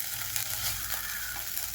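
Ginger sizzling in hot oil along with mustard seeds and coconut pieces, a steady, dense crackle and hiss heard up close with no talking.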